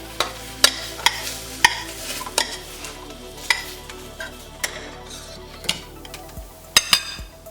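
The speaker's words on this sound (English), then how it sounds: "Or we just put it in a bowl like so." Oatmeal spooned into a bowl, with a series of close, crisp spoon-against-bowl clinks at irregular intervals over a soft, soft scraping background.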